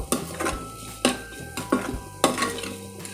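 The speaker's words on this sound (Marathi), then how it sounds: "आपल्याला हे कांद्यासोबतच चांगलं परतून घ्यायचंय" Sliced onions and whole spices sauté in a pan for misal, with a spoon stirring and scraping in repeated strokes over a steady sizzle, close and clear with no talk.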